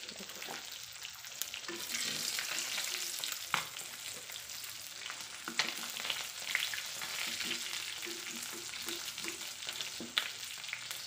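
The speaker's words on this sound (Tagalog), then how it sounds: "Piniprito ko na yung isda." Fish frying in oil in a pan for Filipino sarsiadong isda, a steady close sizzle with scattered crackles and soft stirring clinks, no talking.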